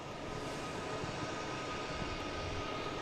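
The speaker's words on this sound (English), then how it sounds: "we got JetBlue coming in here from San Francisco, an A321neo, flight 834" Steady engine rumble from a JetBlue Airbus A321neo arriving from San Francisco, a continuous mid-distance drone without pauses or talk.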